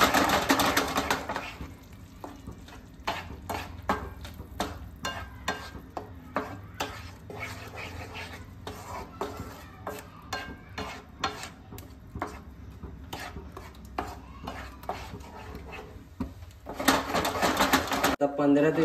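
Paneer butter masala gravy being sautéed and stirred in a pan, with a steady series of spoon scrapes and clinks against the metal and a soft sizzle, while a voice talks quietly at times.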